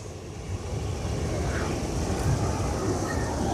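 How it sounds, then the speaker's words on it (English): An airplane passing overhead above a garden, a broad continuous roar that holds steady and swells slightly, loud and dominant throughout with no other distinct sounds. "I hate airplanes."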